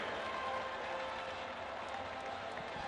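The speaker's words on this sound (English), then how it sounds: "One more time, a round of applause for Miss Kincaid of the United States Marine Corps" A crowd applauds a Marine Corps mother at the 2004 Mississippi Girls 5A State Championship. The clapping blends into a steady, even wash that sounds distant, fills the large venue and continues without pause for about three seconds.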